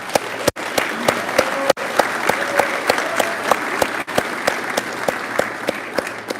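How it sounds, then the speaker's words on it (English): Applause at a military change of command ceremony for a cyberspace operations squadron: a modest group clapping, with individual claps standing out as distinct sharp hits over a steady patter and a faint tone running underneath. "let's give him a round of applause."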